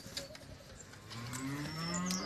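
A young cow at a livestock sale moos in a long, drawn-out call that rises and holds steady, fairly close and alone with no talk over it.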